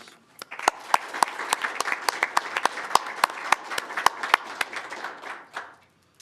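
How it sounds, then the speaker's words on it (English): A small audience at a school board meeting applauds its board members, with steady close clapping and distinct individual claps standing out, holding for about five seconds before fading out. "Please join me again in celebrating our board members with a round of applause."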